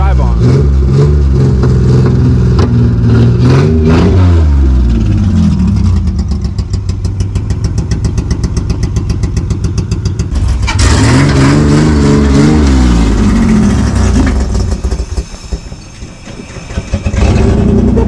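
A Honda CRX with a J-series V6 swap, misfiring on one cylinder, revs hard and loud up close, its engine note rising and falling through sustained pulls with a ragged, uneven edge.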